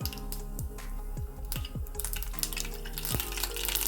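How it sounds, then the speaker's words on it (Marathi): Mustard seeds crackle in hot oil in a pan, a steady fizzing sizzle broken by scattered quick pops, fairly faint and close, with no talking. "तेल तापलेलं आहे थोडी मोहरी घालून घ्यायची"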